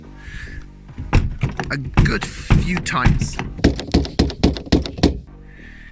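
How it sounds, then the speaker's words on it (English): A Seat Altea XL car door slammed shut again and again, a rapid series of heavy close thunks with someone talking over the first slams. "And then what you do is you slam the door"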